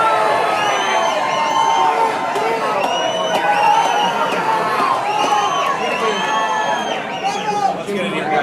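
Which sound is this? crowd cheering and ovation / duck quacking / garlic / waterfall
crowd cheering and ovation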